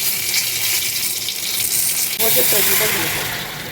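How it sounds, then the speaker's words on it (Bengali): Bay leaves dropped into hot ghee with cumin, a hissing fry that jumps louder and brighter partway through as the leaves hit the fat, with a voice briefly audible over the sizzle. "আর এই ঘিয়ের জিরে আর ঘিটা গরম হয়ে গেছে, এবার দুটো তেজপাতা দেবো।"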